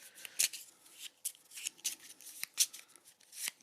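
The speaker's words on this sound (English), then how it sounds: "I'm going to shuffle that up so Rob gets some more cards." Board game cards are shuffled by hand, producing soft, quick riffling and flicking sounds at close range, irregular and fairly faint, with no talking.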